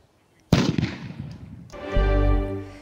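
Fireworks and firecrackers set off around New Year in Zeeland: a sudden loud bang at half a second followed by crackling bursts, then a second loud blast with a rumbling, roaring tail.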